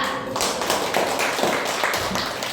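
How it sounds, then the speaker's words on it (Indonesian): A class applauding groups 3 and 4 in a school lesson: continuous loud clapping from many hands, steady for the whole stretch, with no talk over it. "kita beri aplaus buat kelompok 3 dan kelompok 4"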